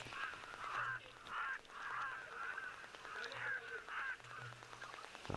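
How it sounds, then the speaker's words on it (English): Cape crows call repeatedly in harsh bursts through steady wind noise outdoors, the calls fairly close and rising and falling in loudness across the stretch. "Nice just to listen to those Cape Crows."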